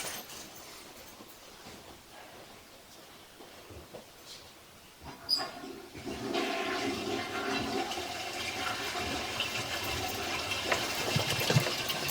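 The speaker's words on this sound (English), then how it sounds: "We're just going to flush the toilet," A toilet is flushed. Quiet, faint rumbling comes first, then a sudden rush of water gushes and swirls, loud and close, through to the end.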